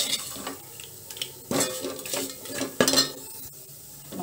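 A spoon stirs roasted rasam spice powder with asafoetida in a pan for Andhra-style pepper rasam, giving soft scraping and occasional metallic clinks, close and quiet with no voices.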